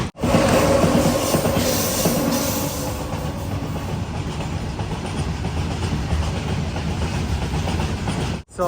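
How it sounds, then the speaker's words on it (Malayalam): A DEMU train runs on rails as it nears Vijayapura station on the Solapur–Vijayapura line in Karnataka, giving a continuous loud rumble with clickety-clack wheel noise that eases slightly before cutting off at the end. "വിജയപുര റെയിൽവേ സ്റ്റേഷനിലേക്ക് നമ്മൾ ട്രെയിൻ എത്തിക്കൊണ്ടിരിക്കുകയാണ്"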